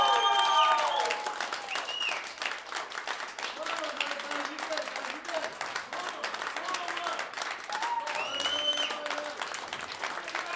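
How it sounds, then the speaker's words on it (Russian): Concert audience applauding a blues band's drummer, a dense, steady wash of clapping from a crowd that runs through the whole stretch, with scattered voices and whistles rising over it. "Давайте поаплодируем."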